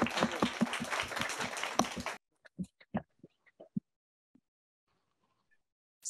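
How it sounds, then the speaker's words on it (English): An audience at a panel discussion claps for the panelists, a dense burst of applause lasting about two seconds that cuts off abruptly, leaving a few scattered individual claps trailing away into near silence. "please give a big round of applause to the panelists"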